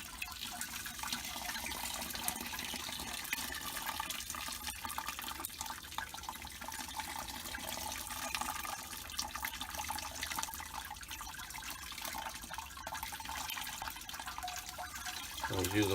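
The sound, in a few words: hot sparge water rinsing grains for homemade beer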